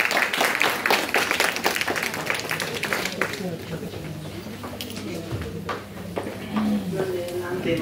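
Clapping rises at a children's poetry competition, brisk applause for the first few seconds that fades as a young voice begins speaking.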